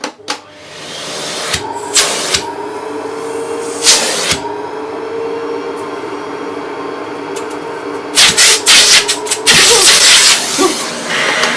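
An Electrolux Excellio Z5040 vacuum cleaner runs on maximum power with a steady, loud, close motor whine and rushing airflow, broken by a few sharp knocks and louder surges of suction near the end.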